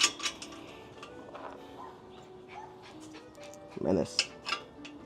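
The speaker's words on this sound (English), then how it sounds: "My dog is having a barking battle with another dog," Two white dogs barking back and forth at each other, with a few sharp barks early on and a louder cluster of barks toward the end, over low background noise and faint clinks.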